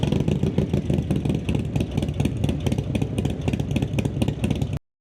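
Harley-Davidson Softail motorcycle fitted with GP suspension runs close by, its engine giving a steady, loud, throbbing idle with rapid rhythmic pulses and mechanical clatter throughout.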